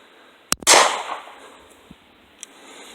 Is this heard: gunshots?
yes